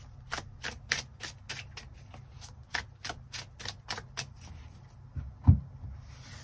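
Tarot cards being shuffled and drawn: a quick run of crisp, evenly spaced card flicks and slaps, close and fairly quiet, ending with a firmer tap as a card is placed, no talk.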